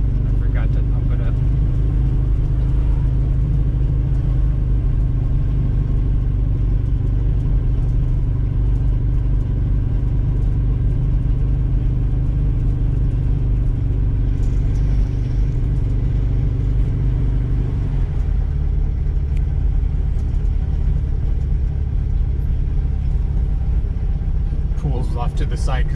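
A Volvo 142 driven for the first time after decades of sitting, with an underinflated tire and a single working brake caliper: a steady, loud low engine rumble from inside the car that continues throughout, with the pitch shifting partway through.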